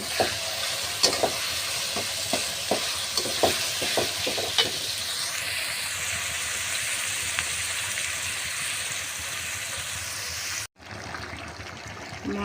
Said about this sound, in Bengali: এই যে রাজা হাসের গোশ রান্না করছি কড়াইতে তেল দিয়ে পেঁয়াজ কুচি দিয়েছি